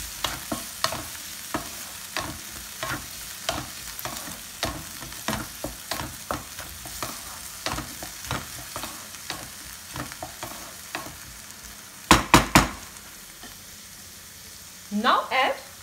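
Corn mixture with soy sauce and Schezwan chutney sizzles in a pan while a spoon scrapes and stirs in a steady rhythm of repeated strokes, with a few sharper clanks near the end.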